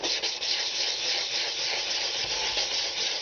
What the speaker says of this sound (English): I'll do it some with the sanding block we made also.